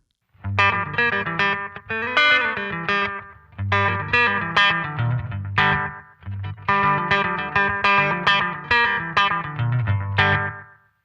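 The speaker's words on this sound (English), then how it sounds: "now let's hear a shorter kind of slapback style setting" A distorted electric guitar through an analog delay pedal on a short slapback setting plays loud, punchy chord phrases in bursts separated by brief pauses, each note doubled by a quick tight echo.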